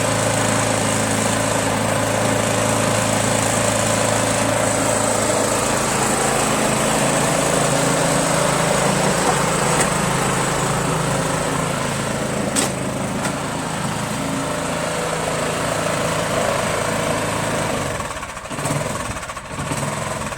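A Cub Cadet LT1000 lawn tractor engine runs at low idle, a steady, loud, continuous drone that holds level throughout with no talking.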